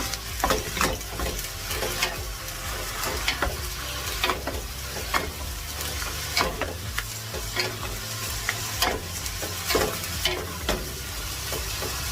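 Spring roll filling sizzles in a hot pan while a spatula scrapes and stirs in repeated, uneven strokes, close and fairly loud.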